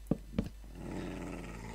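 Angry dog growling in Minecraft, two short gruff bursts up front followed by a longer low, rumbling growl that sustains to the end, close and fairly loud.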